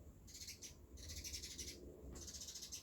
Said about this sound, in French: Il y a les oiseaux qui chantent, ils sont d'accord.